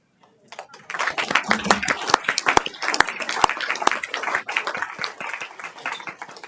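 Audience at a Harris County Commissioners Court meeting breaks into a burst of clapping. The clapping is sharp, close and fairly loud, builds quickly after a short silence and keeps going steadily.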